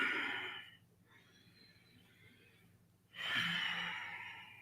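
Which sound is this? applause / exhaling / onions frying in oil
exhaling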